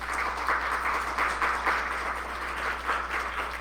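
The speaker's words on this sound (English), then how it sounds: "Can we please give them a round of applause?" A small audience claps steadily for a few seconds at moderate volume at a judicial candidate meet and greet, with a low steady hum underneath.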